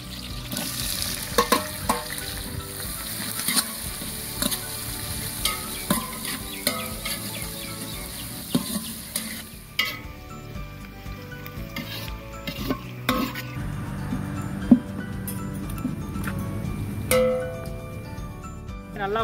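Onions and green chillies are stirred and sautéed in a pan for chicken biryani and gravy, giving a steady sizzle with repeated scraping stirs and light clinks of a utensil against the pan, close up and with no talk.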